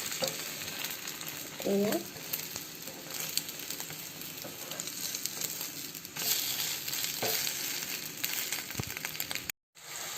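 Spinach sizzles and fries in a hot pan for an omelette dish, a loud, steady hiss with occasional stirring scrapes, briefly interrupted by a short spoken word and a sudden cut near the end.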